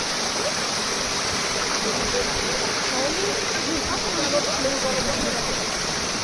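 Water pours steadily from the 108 spouts at Muktinath, a dense continuous rushing splash, close and even throughout, with faint voices mixed in.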